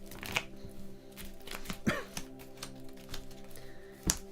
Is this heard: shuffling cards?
yes